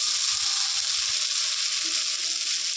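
Soaked, drained flattened rice (chire) tipped into a pan of fried ingredients for chire pulao, giving a steady, close, loud sizzle that holds evenly throughout with no voices.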